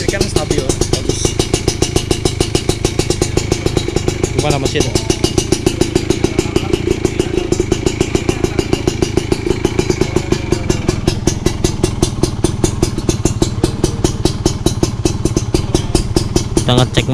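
An older Kawasaki Ninja RR two-stroke motorcycle engine running steadily for the whole stretch, a loud, close, rapid rattling putter with a slight clatter, under occasional talk from people nearby.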